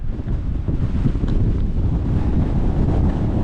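Strong wind roars across a Ben More mountain summit, a steady loud buffeting rumble over the microphone that continues for the whole stretch with no voice.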